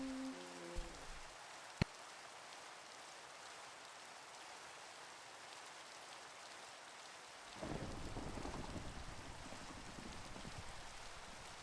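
Thunder from lightning bolts in a scary video game being made, a sharp crack followed later by a loud rolling rumble over continuous heavy rain.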